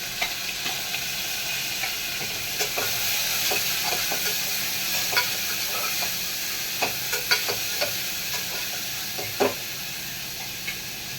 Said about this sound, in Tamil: இப்போ வெங்காயம் போட்டு கருவேப்பிலை போட்டு